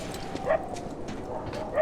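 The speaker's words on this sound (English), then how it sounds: "I hear dogs in there." Dogs bark in Lies of P, a few short yaps rising over a steady bed of game ambience and faint movement, mid-distance and fairly quiet.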